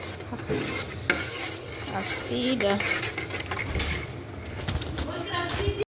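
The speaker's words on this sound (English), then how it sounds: "You mix the flour with that sauce from dates." Flour is stirred into boiled date sauce for assidha during village cooking in Qatar, with soft scraping and sloshing strokes of stirring and light clinks of a pot under a person talking.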